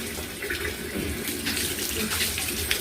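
Water is poured and runs steadily while dogs are bathed, a close, continuous splashing and gushing like a running tap.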